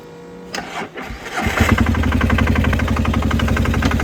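A Polaris diesel UTV with newly repaired charge pipes and head gasket cranks, catches and roars into a loud, close, rhythmically pulsing run that holds steady at high revs, with no voices.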